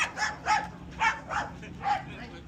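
Several dogs bark back and forth at each other a short way off during an afternoon walk on Vancouver Island, giving about six evenly spaced barks of moderate loudness.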